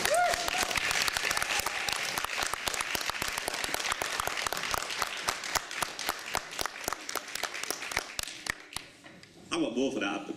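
Audience applause at a comedy open evening, a dense run of rapid clapping from a crowd, strong and sustained for most of the stretch before thinning out, with a voice speaking near the end.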